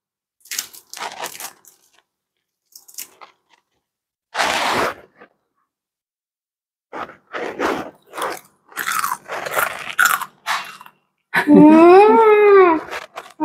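Crispy masala dosa being bitten and chewed, with sharp crunchy bites breaking through between stretches of quiet, close to the mic; a voice rises loudly near the end.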